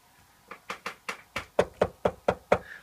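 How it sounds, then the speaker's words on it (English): Knuckles rap on wood about ten times in a quick, slightly uneven sequence, close and distinct, each knock sharp with a short hollow ring. "Knock on wood."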